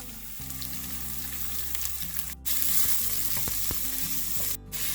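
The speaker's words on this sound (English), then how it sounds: "Saute the onions till it becomes translucent." Sliced onions and three sliced green chillies sauté in hot oil in a pan, a steady close sizzle running throughout, with a couple of louder bursts of spattering and occasional utensil clinks.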